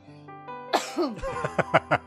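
A sudden fit of coughing up close after choking, a sharp sputter followed by a series of quick, rhythmic coughs.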